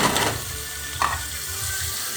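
Onions and spices frying in heated oil over medium heat in a caldero, a steady broadband sizzle running throughout with a brief clink of a wooden spoon stirring partway through.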